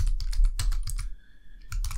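Rapid keystrokes on a computer keyboard while typing code in a Flutter programming session, crisp close clicks in quick irregular bursts with a brief pause midway and faint background hum.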